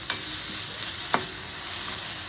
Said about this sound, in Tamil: கேரட் போட்டு எல்லாம் நல்லா கொஞ்சம் வதங்கணும்